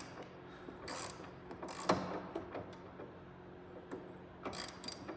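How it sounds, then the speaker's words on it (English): A number 3 Phillips screwdriver tightens a screw on the undercarriage of a Nissan 300ZX Z31, with faint, close ratchet-like clicks and small scraping ticks scattered over a quiet background. "the number 3 Phillips down here, get it tight"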